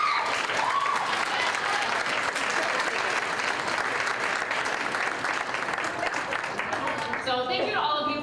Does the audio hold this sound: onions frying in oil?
no